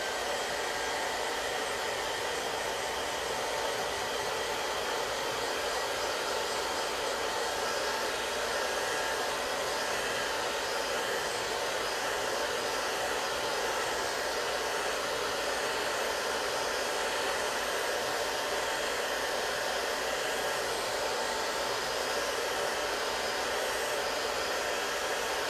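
Hair dryer blowing steadily on chalk paste over a craft project, a loud, even whooshing hum that runs unbroken and alone with no voices.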